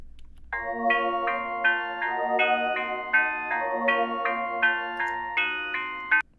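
A dark bell melody played on a stock FL Studio synth rings out in clear, evenly spaced struck notes, each decaying briefly before the next, alone with no talk.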